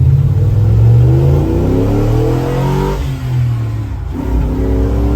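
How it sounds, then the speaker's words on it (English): An LS V8 swapped into a Jeep CJ-7 revs hard and accelerates, with rising harmonic sweeps of a loud, close engine pulling through gears, a brief dip near three seconds, then climbing again. "That's why you put an LS in a CJ-7."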